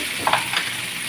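Onion and tomatoes sautéing in a pan, a soft steady sizzle with a couple of quick stirring scrapes near the start.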